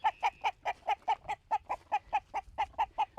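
Hens on a homestead flock of about ten hens and one rooster cluck close by in a quick, regular series of short, clipped calls, with no talking.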